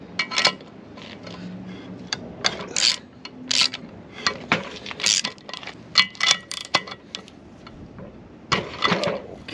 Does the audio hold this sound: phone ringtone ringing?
no